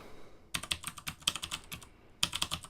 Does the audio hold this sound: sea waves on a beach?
no